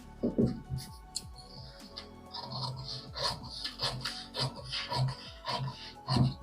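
Scissors cut through blouse fabric to separate the lower belt piece of a princess cut belt blouse, giving a series of close, uneven crisp snips and rasping rustles.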